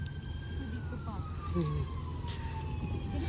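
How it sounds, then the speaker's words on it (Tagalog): An ambulance siren wails with one long, steady falling tone at a distance, fairly faint beneath constant traffic rumble, with faint voices nearby. "Ayan na, ambulansya na yun mga kababayan."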